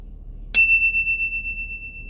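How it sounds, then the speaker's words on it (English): A meditation bell is struck once and rings out clear and close, its bright tone lingering and slowly fading in an otherwise quiet room. "if you hear the bell, it's time for us to stop and take 3 breaths"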